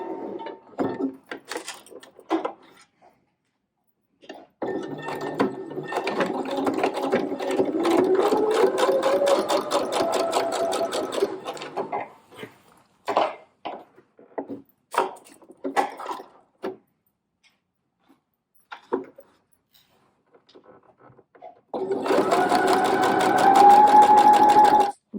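A sewing machine stitches a shirt with a Peter Pan collar, running in several bursts of steady whirring separated by pauses, the longest burst in the middle and a loud final run at the end.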